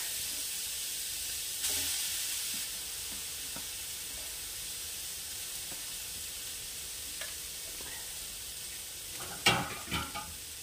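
Grated coconut cooking in a kadai over a low gas flame, a quiet steady sizzle and hiss with a few stirring scrapes and a louder clatter of spoon against the wok near the end.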